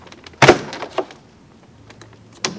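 Plastic door trim panel pulled up and off a Volvo S60 front door, giving a sharp clunk followed by a softer knock and a final brief click, close and alone.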